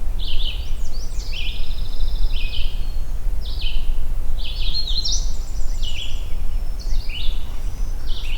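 A redstart sings an unusual song variation on an overcast morning, repeated short high twittering phrases coming in bursts at moderate distance over a steady low rumble of background noise.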